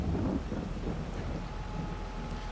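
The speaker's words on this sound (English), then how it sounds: "wow, listen to that thunder, it's coming down pretty good." Thunder rumbling with steady rain in a Farming Simulator 22 storm over a Texas farm field, a dense low roar and wash of noise throughout with no talk.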